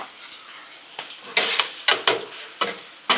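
Sausage and onions on a Blackstone griddle, sizzling with repeated bursts of spatula scraping and tossing in an irregular rhythm, close and fairly loud, with no voices.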